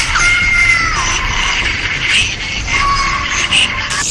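Terrible screaming as a horror sound effect: loud, sustained wailing cries that rise and fall over a dense, harsh background, with no spoken words.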